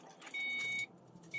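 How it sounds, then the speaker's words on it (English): Keys jangle and a car engine turns over to start, two short bursts of starter noise close by in a quiet interior. "I want to have to turn on the car."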